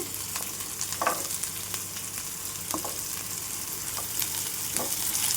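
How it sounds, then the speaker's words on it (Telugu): Sliced garlic and long-cut onions frying in a pan for a sprouted green gram curry, a continuous sizzle broken by several sharp stirring clinks and scrapes, close and alone. "ఈ వెల్లుల్లి ఉల్లిపాయలు చక్కగా దోరగా వేయించుకోవాలి"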